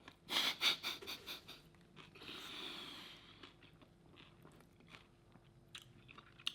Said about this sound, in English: What a crunch.